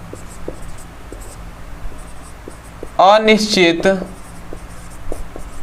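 Writing on a board during a classroom lesson makes short, scattered tapping strokes, fairly close, with a voice briefly speaking in the middle.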